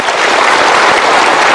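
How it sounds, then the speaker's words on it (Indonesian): Studio audience at a televised quiz segment breaks into dense, loud applause that fills the whole short moment. "Kami lock jawabannya, kita berikan tepuk tangan."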